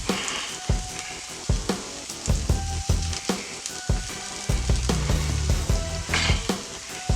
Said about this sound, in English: I'm going to put one of my pieces of rye bread down on the butter,